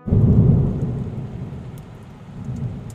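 Heavy rain pours steadily at midnight while a deep rumble of thunder swells at the start and fades, with the downpour continuing loud and even afterward.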